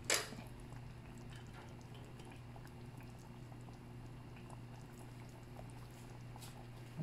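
Pork binagoongan sauce with a splash of vinegar simmers quietly in a pan, giving off a soft, continuous low bubbling with faint crackles. It stays gentle and steady throughout and nothing else is heard.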